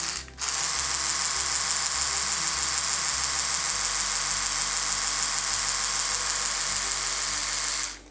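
An Oral-B Genius 9000 Rosegold electric toothbrush running in tongue-cleaning mode gives a steady, close, high-pitched motor buzz for several seconds, alone, with a low rhythmic pulsing underneath.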